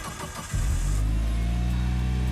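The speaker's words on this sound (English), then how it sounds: "That's probably one of my favorite features of GT5 is the startup like noises" Mitsubishi Lancer Evolution with a 4G63 engine starting up in Gran Turismo 5: a short crank at the start, then the engine catches and settles into a loud, steady, close idle hum.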